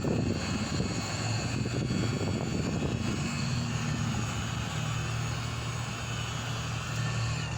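A rotary polisher buffs compound off the headlight of a Saturn SL1 with a loud, continuous whirring drone, close by, its pitch shifting partway through as the speed changes.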